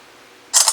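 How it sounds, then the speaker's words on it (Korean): A Galaxy Note 2 camera takes a photo by voice command, giving one short, bright electronic shutter click with a faint double edge after a quiet pause. "예, 음성으로 지금 촬영을 해주게 됩니다."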